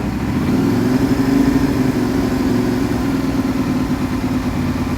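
Steady, loud motorcycle engine held at about 2,000–2,500 RPM through a GP OneCarbon aftermarket exhaust, a constant low droning rumble with no talking.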